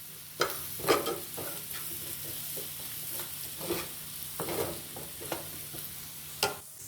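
Spices being stirred into keema frying in a pan for a dhaba-style danedar keema, soft scraping strokes over a low, continuous sizzle, close and fairly quiet with no voices.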